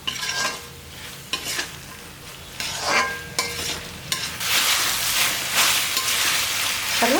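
Soya chilli manchurian tossed and fried in a pan over high flame: loud bursts of sizzling and scraping strokes as the pieces are spread and stirred, coming in uneven waves, no talking.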